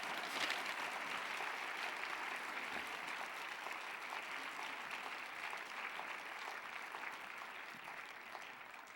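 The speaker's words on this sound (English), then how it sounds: "Let's give her a round of applause" Sustained applause from a seated audience at a talk on women's role in sustainability, steady and dense throughout with no voices over it.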